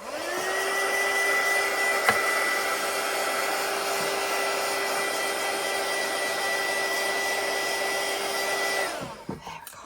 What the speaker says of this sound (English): I'm just going to put the dryer on it just for a second.